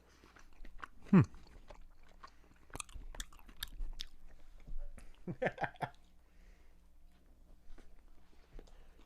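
Someone chews a bite of a Whopper-like burger with pickle, onion and mayonnaise, giving soft, close, wet crunching and munching in brief bursts amid quiet pauses.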